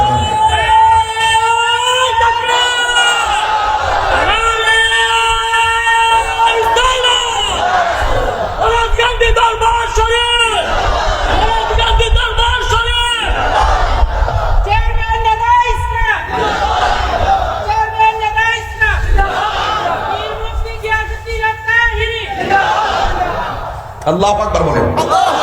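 A large crowd at a Bangladeshi Islamic religious gathering chants a slogan in loud, repeated unison bursts of roughly one to two seconds each. The chants come in regular call-like waves, with a bellowing, cheering quality.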